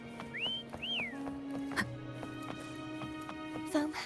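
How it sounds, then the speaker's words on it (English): Two short whistled notes, each a quick sweeping pitch glide, sound in the video game Wuthering Waves over soft background music. "Try whistling."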